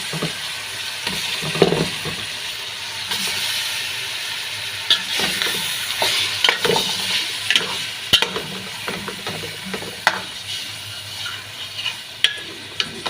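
Chicken pieces frying in a pot with masala and browned onions, a continuous close sizzle broken by repeated stirring scrapes and spoon knocks, sharper clinks toward the end, no one speaking.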